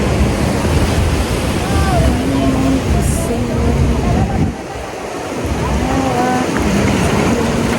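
Steady roar of sea waves and wind fill the scene, with people talking over the surf throughout.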